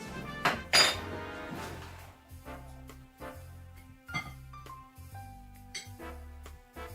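Batter mixed with melted butter in a bowl, a utensil knocking and clinking against the bowl in a steady repeated rhythm of sharp taps, close up, with one louder clatter near the start and no talking.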